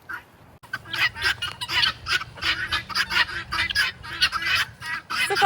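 After a brief quiet start, a flock of goose-like fowl breaks into close, insistent honks, one call tumbling after another with short gaps.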